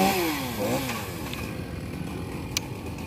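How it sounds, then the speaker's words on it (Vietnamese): A chainsaw cutting coconut palm fronds in a garden in western Vietnam revs briefly with a rising and falling whine. It then fades to a faint, distant idle. "Rồi, những cái tàu này thì ảnh cũng chỉ cưa nhá thôi, không có cưa đứt."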